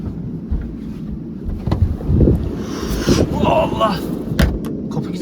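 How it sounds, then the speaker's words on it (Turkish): Strong wind buffets the microphone in rumbling gusts at a night campsite, rocking a caravan, with a voice speaking briefly over the roaring, blustery noise. "Çok rüzgar. Karavan sallandı."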